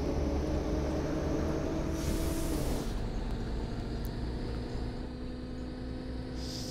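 A tram rolls along in the bus simulator game OMSI, a continuous rumbling ride with steady motor hum whose pitch drops as it changes speed, plus faint clicks and rattles over the rails, with no talking.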